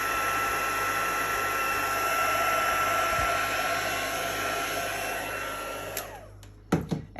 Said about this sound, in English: Now I'm going to let that dry and I'll bring in my heat tool to help that process.